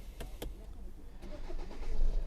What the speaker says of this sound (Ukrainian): Запускається автівка дуже добре якихось посторонніх шумів, звуків, ніде по двигуну нічого немає